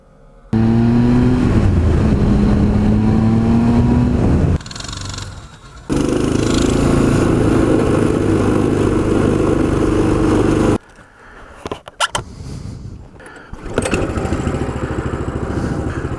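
Coleman CT200U EX mini bike's small engine droning loud and close at riding speed, pitch climbing under acceleration, briefly dropping off mid-run, then cutting out before revving back up.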